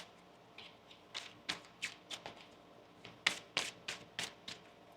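Tarot cards riffle and snap in a quick series of crisp bursts, close and fairly quiet, with brief pauses between shuffles and no talking.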